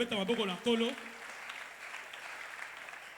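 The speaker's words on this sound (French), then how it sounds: "Est-ce qu'on peut donner des acclamations au Seigneur?" Congregation at a church service applauding and cheering in praise after a preacher's voice, a soft, steady wash of clapping and acclamation that stays fairly faint and distant.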